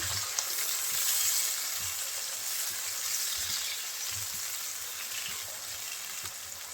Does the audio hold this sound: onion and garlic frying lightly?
yes